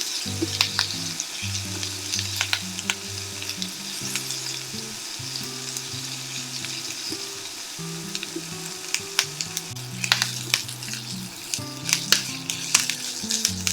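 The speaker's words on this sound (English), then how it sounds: "I'm going to let this cook so the onion and celery soften." Onion and celery sizzling in a pan for a chicken hash, a steady close frying crackle with intermittent stirring scrapes and sharp utensil clicks over a low hum.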